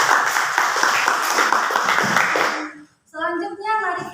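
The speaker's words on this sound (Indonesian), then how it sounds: "Berikan aplaus dulu." A room of students claps after a group presentation, a dense burst of applause lasting a few seconds that stops abruptly before a voice speaks.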